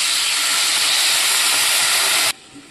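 A little water hits a hot pan holding Kashmiri red chilli powder and ginger-garlic paste, giving a loud, continuous steam hiss up close that stops abruptly, leaving faint background sound.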